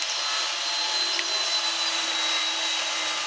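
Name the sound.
power tool running next door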